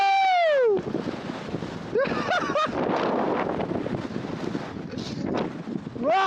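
Strong mountain wind roars and buffets the microphone on a cloud-covered hilltop during wild camping in extreme weather, with loud gusts pounding in waves and excited whooping voices briefly rising above it.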